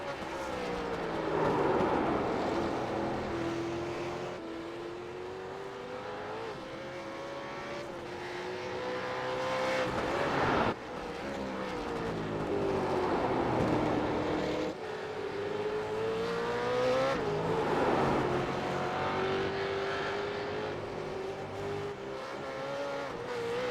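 V8 Supercar racing around Bathurst in the Racetech game, its engine note rising and falling through gear changes as it storms down the front straight, a continuous loud drone with repeated upshifts.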